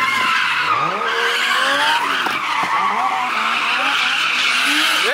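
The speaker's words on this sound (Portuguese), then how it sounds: "E agora o Léo vai levar o líder pra dar uma voltinha de 350Z." A Nissan 350Z pulls away with its tires skidding, a loud close screech over the revving engine whose pitch climbs and shifts through several bursts.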